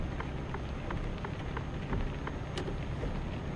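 Steady rain from Euro Truck Simulator 2 patters on the truck, a dense, constant wash of drops with faint scattered taps, with no talking.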